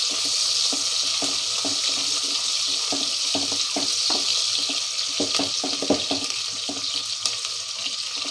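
Chopped onions frying in a pan for a chicken green gravy, giving a steady close sizzle with scattered crackles and occasional stirring clicks, no voices.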